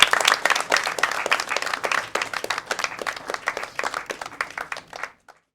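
Audience applause welcoming a professor onto the stage at a student play, dense clapping from a crowd that gradually thins and fades out near the end, with no talk.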